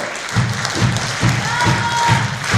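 Concert audience applause fills the room as a dense wash of clapping, with a steady rhythmic beat of claps in time running under it.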